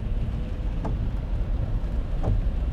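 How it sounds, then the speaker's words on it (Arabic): Rain splashing from a tunnel onto a vehicle on a rainy night in Al-Khobar, a steady loud wash of spray and rumble with a couple of brief sharper splashes, no talk. "وهذا طشر علينا المطر جاي من النفق"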